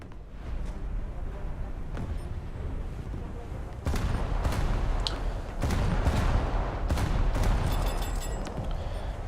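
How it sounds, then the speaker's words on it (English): Video game naval gunfire, heavy booms in repeated bursts over a constant rumbling background, with sharp loud blasts clustered in the second half. "Also my gunfire is a bit loud."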